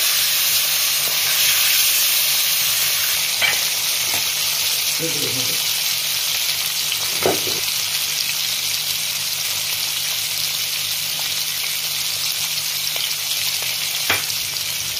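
Hilsa fish and eggplant frying in hot oil with a steady close sizzle throughout, a few brief clinks and scrapes from turning the pieces over, no talk.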